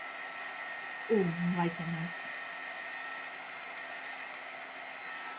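A hair dryer blows over a watercolor painting, a steady moderate whir throughout, with a person briefly speaking over it near the start.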